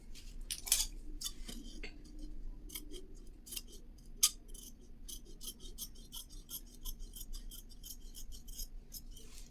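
Scissors cut through blouse fabric along chalk marks at a sewing class, giving repeated crisp snipping and rasping blade strokes, close and fairly quiet, with no talk.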